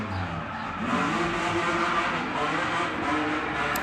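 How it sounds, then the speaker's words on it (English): A drift car at a Cyprus drift practice session, its engine revving hard and bouncing off the rev limiter, a loud buzzing stutter mixed with tire squeal, with no talking. "Bouncing off the rev limiter, probably in second gear."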